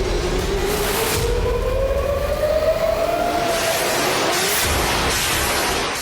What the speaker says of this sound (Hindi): इजराइल की राजधानी में एयर रेड अलर्ट के ये गूंजते हुए सायरन दरअसल अरब